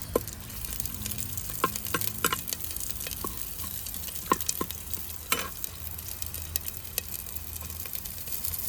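Onion frying in oil for a Kundapura-style fish curry, a steady sizzle broken by sharp clacks and scrapes of stirring, close and moderately loud.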